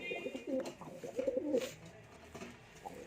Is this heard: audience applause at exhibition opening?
no